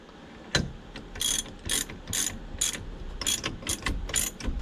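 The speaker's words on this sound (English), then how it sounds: "once you tighten this nut down, it is now" A ratchet tightens the nut on a steering wheel puller on a classic Mopar, producing about ten close, crisp bursts of rapid clicking in an uneven rhythm.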